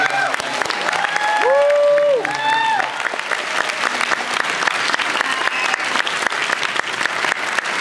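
A convention audience gives a sustained round of applause, dense steady clapping filling the room, with a voice speaking over it in the first few seconds.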